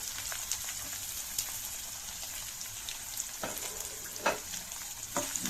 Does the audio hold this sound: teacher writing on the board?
no